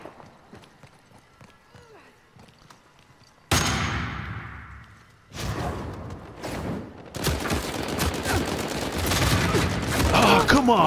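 Sniper rifle fire in the online multiplayer video game Uncharted 4: A Thief's End, with loud sharp blasts and dense bursts of gunfire and action noise filling the second half after a quiet opening.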